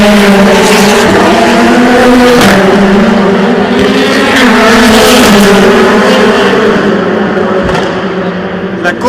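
Race cars at the 2016 24 Hours of Le Mans roaring past close by at night, loud engine drones rising and falling continuously, with a voice talking over the noise.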